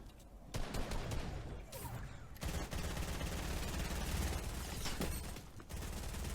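Rapid bursts of compact SMG fire in Fortnite, loud and close, with dense fully automatic volleys broken by short pauses and no talk over them.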